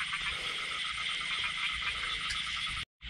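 A dense, continuous chorus of frogs croaking near a night-time frog hunt fills the scene, with steady layered calls that cut out abruptly into silence at the end.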